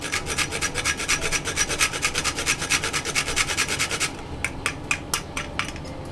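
Whole nutmeg rasped on a grater for Jamaican pineapple punch, quick rhythmic scraping strokes, close and crisp, a fast even run of strokes then a few slower, sparser scrapes at the end.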